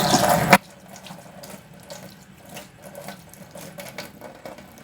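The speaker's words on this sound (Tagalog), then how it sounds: "Saka ko nalagyan ng mainit na tubig." Hot water runs from a tap into a kitchen sink while milkfish is washed, a loud gushing burst at first, then softer splashing and trickling as the fish is handled under the stream.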